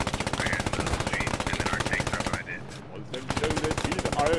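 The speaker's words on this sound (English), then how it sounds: "they're shooting!" Sustained rapid automatic gunfire in a video game rattles loud and continuous, breaking off briefly before resuming at the same fast rhythm.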